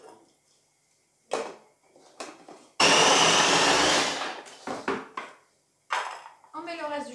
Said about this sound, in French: On met le reste du chou. Une partie des pignons. Et on mixe encore une fois.